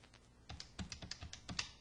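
Calculator keys are pressed in a quick run of soft, close taps, about a dozen presses, with no voices.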